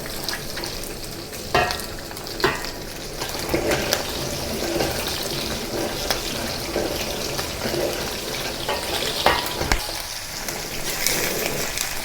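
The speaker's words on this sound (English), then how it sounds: "let it sear on one side until it starts to turn color" Thinly spread beef searing in a hot pan for a Chinese beef with black bean sauce dish, a steady close sizzle running throughout with occasional stirring or scraping clicks and no talking.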